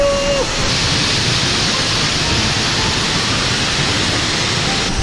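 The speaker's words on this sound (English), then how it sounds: "That waterfall is so ridiculously powerful." A powerful waterfall in Bali pours in a steady, loud roaring rush that fills the whole stretch without a break.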